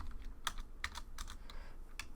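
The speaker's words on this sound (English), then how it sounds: "We'll type this out." Clicks of a computer keyboard as Python code for a Django registration form is typed, a quick irregular patter of keystrokes close by over a low background hum.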